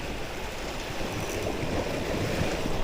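Sea waves slosh around a small fishing boat on the water, a continuous close wash of churning water mixed with wind rush, steady and fairly loud.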